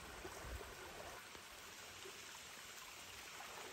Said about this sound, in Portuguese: Aí a gente já percebe aqui o riacho, ó.